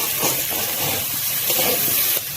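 Water poured into spice masala frying in a kadai sets off a loud, continuous steamy sizzle and hiss, close and unbroken, dropping slightly at the very end.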